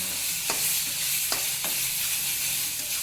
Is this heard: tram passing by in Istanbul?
no